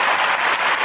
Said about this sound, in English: Let me give you all a great clap here.